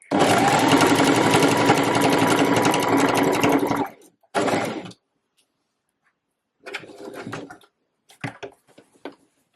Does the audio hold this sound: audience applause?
no